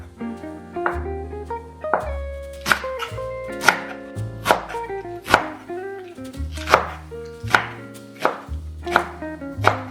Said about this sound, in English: Now we can cut some ham and bok choy.